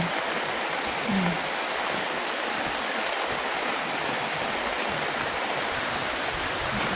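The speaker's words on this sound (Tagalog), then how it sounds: "Lakas na ulan." Heavy rain pours down steadily in a dense, even hiss that fills the whole stretch without pause, close and loud, with no talking.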